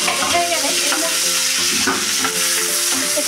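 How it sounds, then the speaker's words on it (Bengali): Onions and garlic frying in oil in a pan, a loud close sizzle broken by repeated stirring scrapes and spatula knocks, no talking. "এখন আমি পেঁয়াজ আর এই যে রসুনগুলোকে আমি দিয়ে দেবো, হালকা করে ভেজে নেব"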